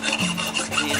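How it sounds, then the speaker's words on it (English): A hand file rasps against the two inner ridges of a steel axe head during a handle replacement, giving a brief scraping stroke close up. "Filing out the two ridges on each side of the"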